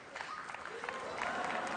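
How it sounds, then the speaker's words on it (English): A crowd at the National Dog Show ringside applauds in a faint, distant patter while a voice talks over it. "draw a great response from the crowd"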